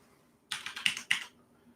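A phone number being typed on a computer keyboard: a quick burst of five or six crisp key clicks after a brief quiet, close and clear with nothing else over it.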